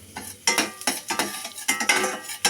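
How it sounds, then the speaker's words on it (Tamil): Urad dal, fenugreek seeds and a pinch of asafoetida being stir-fried in oil: loud, close metal spoon scrapes and clinks against the pan, with a light sizzle between strokes. "2 உளுந்து, 2 வெந்தயம், காயப்பொடி ஒரு பிஞ்சு போட்டுட்டு நல்லா வதக்கி விடுங்க"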